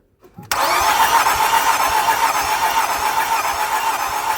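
Nissan Rogue engine cranks during a compression test, with a sudden loud whirring drone starting after a short pause and running steadily with a faint rhythmic pulse, close by and uninterrupted by talk.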